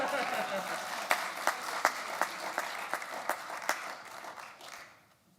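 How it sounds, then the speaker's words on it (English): A church congregation gives a round of applause at Sunday worship, a sustained patter with distinct sharper claps standing out, then fading away to quiet. "That's worth another round of applause since the candle."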